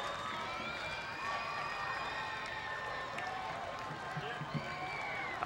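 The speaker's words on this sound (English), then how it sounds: "As St. Thomas comes off the field to a huge round of applause." Crowd cheering and applauding at a high school football game as St. Thomas Aquinas leaves the field, a sustained distant roar of clapping and cheers under a commentator's voice.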